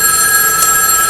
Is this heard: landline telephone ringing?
yes